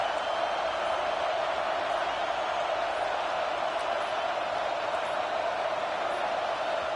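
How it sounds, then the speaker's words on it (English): Steady, dense stadium crowd roar from a football video game, continuous and loud for the whole stretch with no breaks or swells. "The roar of the crowd trying to fuel this defense to keep them pinned in their own end."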